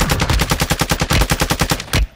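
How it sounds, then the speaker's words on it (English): Sustained automatic gunfire in a Call of Duty Warzone match on Ashika Island, a rapid, even burst of about twenty loud shots in quick succession that stops abruptly. "one was shooting at me from behind"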